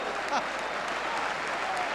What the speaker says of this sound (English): The crowd are applauding